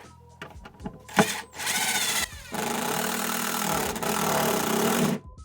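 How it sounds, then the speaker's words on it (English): A power drill drives screws into the metal studs of a Mercedes Sprinter van, whirring in loud sustained runs with brief pauses and clicks between them, close up and without speech. "We're screwing them right into the studs, the metal studs that run the length of the van"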